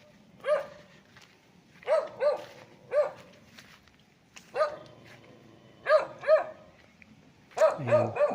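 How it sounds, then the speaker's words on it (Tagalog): A dog at a farm lot in Nagcarlan, Laguna barks repeatedly in short bursts, mostly single and paired barks spaced about a second apart, moderately close and clear over a faint outdoor background, with no talking. "May aso."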